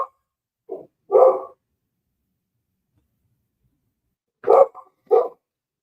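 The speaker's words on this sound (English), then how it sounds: "My dogs are going crazy." Dogs bark in short bursts indoors, a few sharp woofs close together, then a pause and another pair of loud barks, with no talking over them.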